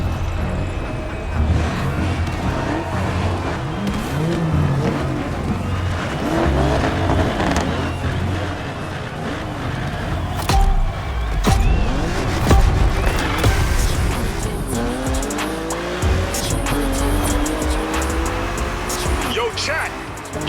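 Car engine revving and shifting gears with squealing tires in The Crew Motorfest racing game, loud and continuous, with swooping skid tones and engine roar throughout, plus some talk over it.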